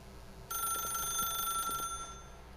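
A telephone rings in The Stanley Parable video game, a steady electronic bell tone that starts abruptly, holds for about a second and a half, then cuts off, heard fairly faintly with no talking.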